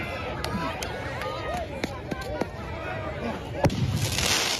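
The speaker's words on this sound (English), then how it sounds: "Footage capturing fireworks being launched at law enforcement." Fireworks launched at law enforcement during street protests in a city: several sharp bangs and whistling streaks ring out amid a restless crowd, with voices scattered throughout and a louder burst near the end.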